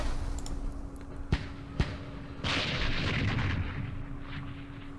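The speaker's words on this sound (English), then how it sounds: "call in the artillery there" Artillery fire in the war game Campaign Series Middle East lands as a few sharp booming shots followed by a rolling, rumbling barrage of explosions that stays loud and continuous.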